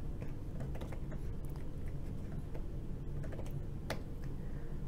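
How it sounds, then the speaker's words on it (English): Steady typing on an iPad Pro 9.7-inch keyboard, a continuous run of quick, close keystroke clicks with a few sharper taps, heard alone without talk. "I'm going to type the quick brown fox jumps up"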